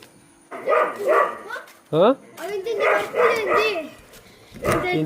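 A dog barks a few times in short bursts, mixed in with people talking nearby.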